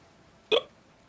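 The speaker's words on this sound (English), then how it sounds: "Hiccup." A single short hiccup in the video game Nier: Automata, one sharp, brief vocal hiccup over a faint steady background hum.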